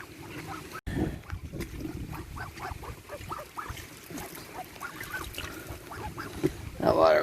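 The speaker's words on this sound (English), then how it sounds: "Come on, ducks." Ducks quacking and geese honking as farm birds are herded indoors, repeated calls scattered through a busy yard under a person's voice urging them along.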